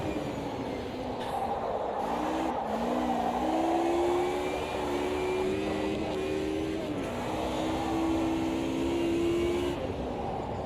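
A race car in Automobilista 2 drifts with short shifting, its engine droning steadily and stepping up in pitch through gear changes, with a faint tyre whine and no talk.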